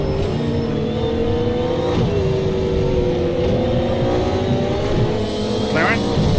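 A McLaren race car engine in a racing video game, revving hard with steady rising pitch sweeps through gear shifts, loud and close, with a voice talking over it.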